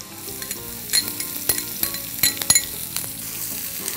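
Garlic, julienned ginger and chopped onion sizzle in a pan with a steady hiss, while a spoon stirs and clinks against the metal in quick, irregular taps, close by and with no speech.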